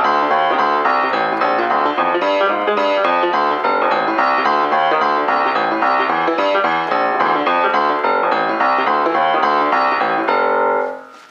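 Solo piano plays a boogie woogie left-hand pattern, a steady rolling bass figure repeating through the 4-1, 2-4, 1-5 chord changes under right-hand chords, loud and continuous before a sustained final chord fades out.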